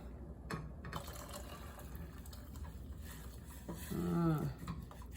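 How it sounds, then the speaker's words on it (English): Coconut sugar water pours steadily into a pot of tamarind water, a soft continuous splash with a brief gurgling swell near the end, over faint room noise. "I will also transfer my coconut sugar water into the tamarind water pot here."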